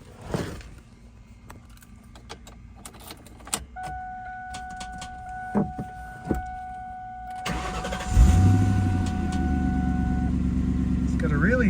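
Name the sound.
2000 Ford Mustang GT engine starting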